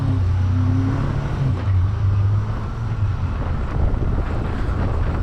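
Car traffic rumbles steadily past at a big roundabout in Morocco, a low continuous engine drone with changing pitch as vehicles pass, heavily mixed with loud wind buffeting on the microphone and no talk.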